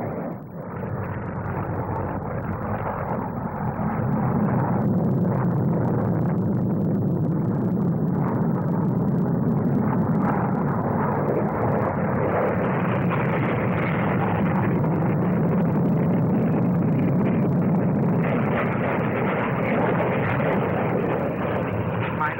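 Jet aircraft of an aerobatic team roar steadily overhead during the 1958 Farnborough flying display, a broad sustained engine rumble that swells and shifts slightly as the formation passes, with no talk over it.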